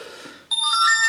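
The tiny ULCOOL F1 mobile phone sounds a keypad tone, a short bright electronic chime that starts abruptly after a brief quiet rustle and rings on clearly, close up, with no talking.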